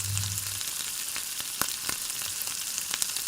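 Eggplant pieces frying lightly in oil in a pan for an ilish begun jhol, giving a steady soft sizzle with scattered pops and crackles throughout.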